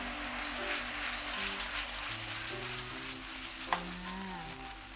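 Whipping cream poured into hot caramel for salted caramel, sizzling and bubbling steadily while being stirred, with a faint clink near the end.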